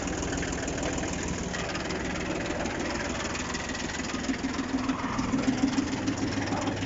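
A mini tractor engine runs steadily with its power take-off shaft engaged, a continuous close mechanical drone with a faint rhythmic knock that grows slightly more pulsing toward the end, no talking.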